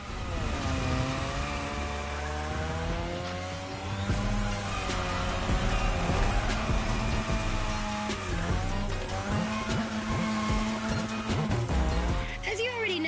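In a racing video game, a car drifts around a drift track with long, wavering tire squeals over a loud revving engine. The engine pitch rises and falls through repeated slides, and a voice talks over it now and then.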